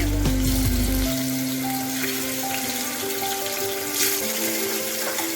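Prawns fry lightly in hot oil for a Bengali potol-chingri dish, giving a steady, close sizzle that runs unbroken throughout with a faint tonal hum in the background.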